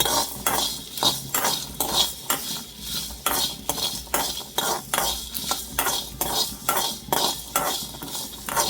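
Coriander and fennel seeds dry roasting in a pan on low flame, stirred with a spoon: rhythmic scraping and clinking strokes over a soft background sizzle, close and steady, with no voices.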